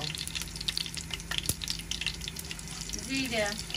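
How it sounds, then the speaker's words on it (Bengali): Cumin seeds sizzling and crackling in hot oil for a dal tempering, a steady close frying hiss with light stirring clinks and a brief watery burble near the end. "জিরা দেওয়া হয়েছে তেলের মধ্যে।"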